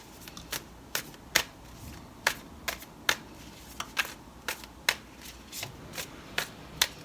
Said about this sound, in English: I'm going to go ahead and pull 3 more cards for you